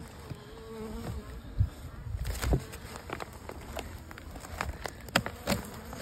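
Honeybees buzzing in a small spring cluster as the hive is opened up, a steady insect drone with scattered louder passes and some handling knocks close by.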